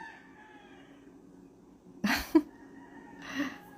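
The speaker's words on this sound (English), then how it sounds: "they're just random chickens outside" A few short bursts of chicken calls sound outdoors over a quiet background, separated by brief pauses.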